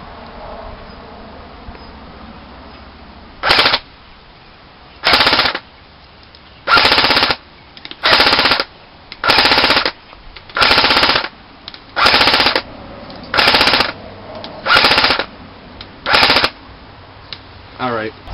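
A Classic Army SL8 (CA8-2) airsoft rifle fires BBs in full auto, about ten loud buzzing bursts roughly a second long, separated by short pauses, close up over a low background hum.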